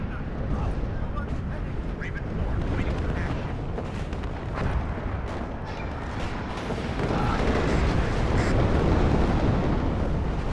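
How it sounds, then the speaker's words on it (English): Bombers' double bombing strike hitting a road in the war game WARNO: a continuous rumbling barrage of heavy explosions, dense low booms rolling over one another and swelling louder toward the end. "Always fun to watch the bombers come in like that."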